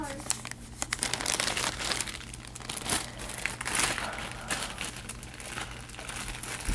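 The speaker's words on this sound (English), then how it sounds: "And there's this little bag, little sandwich baggie." Plastic sandwich baggie crinkling and rustling steadily as craft supplies are handled at a scrapbooking table, close and continuous with a low steady hum underneath.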